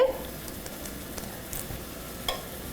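A stuffed arepa of beef and cheese fries in oil in a pan with a faint, steady sizzle, broken by a few soft pops and small clicks.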